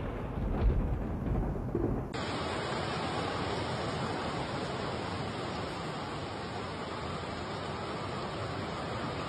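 Heavy rain pours in a dense, unbroken roar during a strong thunderstorm near Münster, Germany, loud and steady after a brief rumbling opening, with no voices.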